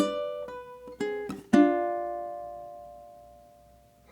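Classical piece on ukulele, half a measure of plucked notes with a pull-off: a few separate single notes, then a final note left ringing and slowly fading, close and clear with no voices.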